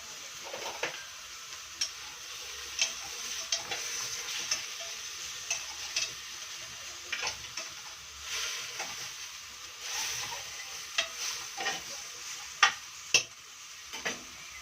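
Onions frying in a pan are stirred with a utensil, producing a low sizzle broken by scattered sharp scraping clicks at an irregular pace, quiet and close, with no talking.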